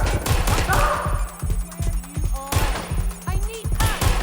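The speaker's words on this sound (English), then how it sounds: "Shots fired! Shots fired!" Loud, close gunfire in Watch Dogs: Legion: rapid cracks and ragged volleys of shots land one after another, with sharp impacts scattered throughout the few seconds.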